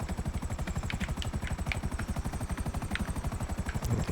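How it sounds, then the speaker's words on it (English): A large helicopter in Grand Theft Auto Online flies with a steady, rapid rotor chop, an even throbbing pulse that runs the whole time, loud and close, with no talk over it. "it's a bigger helicopter than it looks like"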